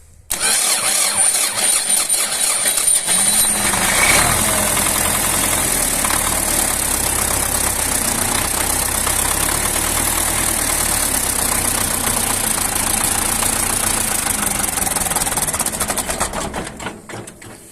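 A YuMZ tractor diesel engine fitted with a new starter cranks briefly, catches and settles into a loud, steady, rough idle that runs for over ten seconds, close up with no talking.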